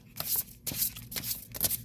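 A deck of oracle cards is shuffled by hand in quick, crisp riffling bursts, three or four close, clear rounds of papery flutter in a quiet room.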